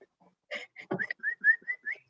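A person gives a short series of bright whistled notes to call a pet dog named Ruby, clear and fairly close in a quiet indoor office.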